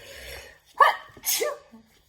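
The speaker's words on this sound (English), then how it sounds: "that was a big sneeze" A single loud, close sneeze with a sharp inhaled buildup and explosive burst, followed by a brief exhale and quiet.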